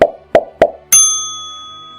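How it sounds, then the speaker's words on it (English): Three quick, hollow pops in a row, followed by a bright ringing ding that slowly fades. "When done correctly, this will generate a pleasant popping sound."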